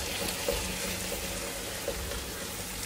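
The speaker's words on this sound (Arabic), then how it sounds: "ونحمس" Minced tomato frying in a pan of stuffing mixture, giving a steady, close sizzle with faint stirring clicks and no talking.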